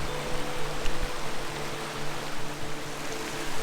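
Cold stream water rushing steadily near a waterfall in Spearfish Canyon, a broad, continuous wash of noise with no talking.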